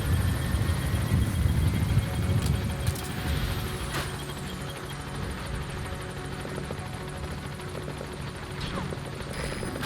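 A support helicopter in Metal Gear Solid V: The Phantom Pain gives a loud, steady rotor and engine drone throughout, heaviest at the start, with faint game sounds over it.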